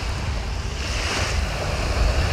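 Waves wash steadily onto a river beach in Montevideo, Uruguay, a continuous rushing surf with some wind noise on the microphone.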